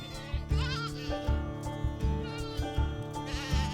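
Goats on the Mongolian steppe bleat in several overlapping, wavering cries over a rhythmic background of music-like tones, close and clear.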